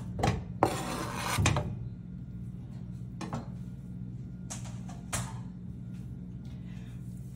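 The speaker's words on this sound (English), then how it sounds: "You can go ahead and add your butter" Butter dropped into a pan on a stovetop burner set between medium and low heat, making a few clinking and scraping metal contacts near the start and again midway, with a steady low hum under them.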